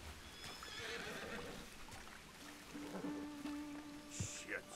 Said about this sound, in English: Oh, that's a beautiful horse.